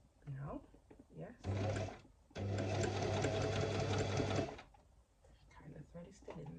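A sewing machine stitches fabric in two sustained runs, the second longer, its motor whirring loud and close with rapid needle chatter, while a beginner talks before and after.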